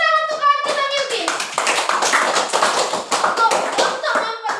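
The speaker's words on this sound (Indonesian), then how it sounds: "Tepuk tangan untuk kawan kita Milkis." A classroom of children claps for a classmate, quick bursts of close, sharp claps mixed with young voices talking and calling out over the clapping.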